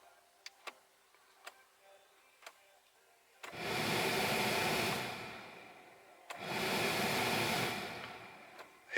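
A 2014 Ford Fiesta heater blower fan, faulty and working on only one speed setting, whooshes up in two sustained bursts of rushing air, after a few quiet clicks and ticks.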